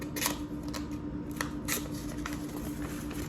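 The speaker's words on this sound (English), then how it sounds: "It will cut paper to a small degree." A Bravedge pocket hatchet blade slicing through thin paper makes quiet scraping and rustling cuts in a few short bursts over a steady background hum.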